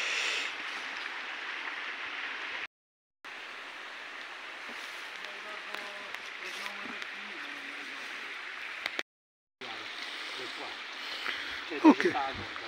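A stream runs in a ditch below a woodland trail near the Nepi waterfalls in Italy, a steady broadband wash of flowing water that continues almost throughout, with two brief dropouts and some louder rustles near the end.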